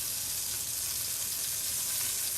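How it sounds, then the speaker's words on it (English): Chicken frying in a pan for chicken piccata, a steady close, loud hiss of sizzling oil that continues evenly without pause. "you can actually see that sizzling, and you can see the white at the edges"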